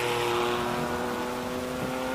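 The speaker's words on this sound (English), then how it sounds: "250 horsepower coming out of this RSR IROC edition" A Porsche RSR IROC edition race car with 250 horsepower at the Simola hillclimb during Classic Car Friday gives off a steady, sustained engine drone with tonal harmonics, fairly close and loud, with no talk over it.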